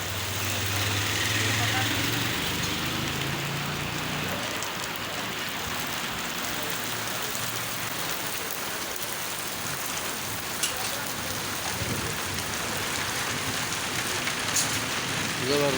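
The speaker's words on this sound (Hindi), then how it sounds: "ज़बरदस्त बारिश शुरू है सुबह से।" Heavy, steady rain pours down in Peepal Colony, Rawalpindi, a dense continuous hiss of drops on surfaces filling the whole stretch, with faint traffic rumble and a voice now and then underneath.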